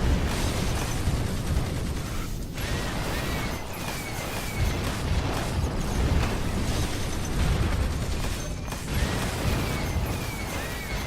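Mini nuke and shrapnel skill explosions from a munitions loadout in a video game, a dense, continuous barrage of booms and bursts rumbling loudly with little pause throughout.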